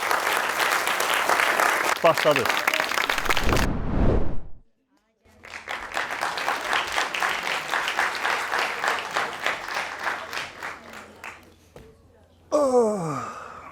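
Applause from a studio audience at a comedy show, a dense rolling patter of many clapping hands that swells, breaks off briefly, then resumes steadily, with speech and a short voice burst nearby.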